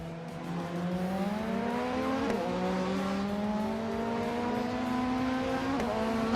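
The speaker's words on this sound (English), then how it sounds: "Double is driving a Peugeot 306 Maxi from 1999" A 1999 Peugeot 306 Maxi race car engine drones steadily in a racing video game, its pitch climbing through the gears with brief shift dips, loud and continuous with no talk.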